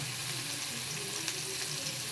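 Steady, bright sizzling of eggplant frying in hot oil, continuous and close with no talking.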